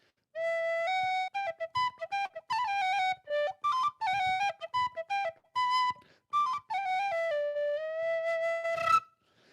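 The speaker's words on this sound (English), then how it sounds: "This is an Irish whistle, also known as a tin whistle," An Irish tin whistle made of metal other than tin, played solo up close: a clear, bright melody of quick separated notes and trills that ends on a long held note.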